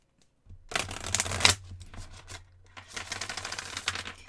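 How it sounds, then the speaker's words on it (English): A thick cardstock deck of cards is shuffled close up in quiet surroundings. There are two bursts of rapid riffling flutter with a short pause between them, and a soft low hum runs underneath. "So you get a little ASMR as we shuffle our deck."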